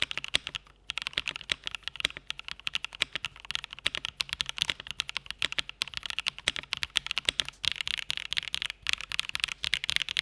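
Rapid, continuous clacking of a mechanical keyboard with lubed NK Cream switches, soft and slightly muted, with an uneven typing rhythm and brief pauses.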